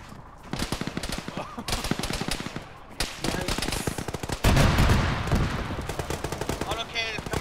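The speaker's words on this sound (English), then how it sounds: "Autocannon is coming in west southwest." Dense autocannon and small-arms gunfire rattle through an Arma video game firefight, rapid repeated bursts close and loud with a heavier boom midway and brief lulls between volleys.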